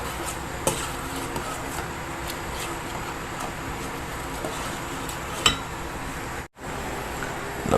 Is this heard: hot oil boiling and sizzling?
yes